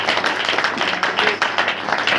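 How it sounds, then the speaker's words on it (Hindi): A church congregation at a Saturday prayer meeting claps hands together, a dense, continuous wash of many hands clapping at once, fairly loud and steady with no clear individual beats. "ताली बजाकर।"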